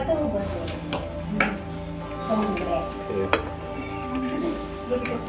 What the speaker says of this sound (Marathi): अशी लालसर होईपर्यंत तळायची आहे